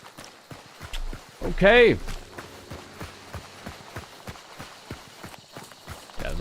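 A horse's hooves clop in a steady, even rhythm in Hunt: Showdown, a shooter set in 1896, close and moderately loud, with a brief spoken word near the start.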